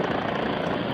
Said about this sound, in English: was killed in a helicopter crash